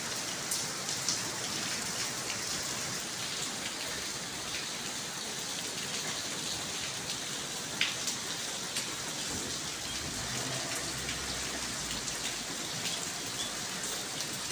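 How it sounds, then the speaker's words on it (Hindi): Heavy rain, the first of winter, pours steadily in Haripur, Pakistan, a dense hiss of drops on surfaces with occasional louder splatters, no voices. "तेज़ तरीन बारिश है जनाब।"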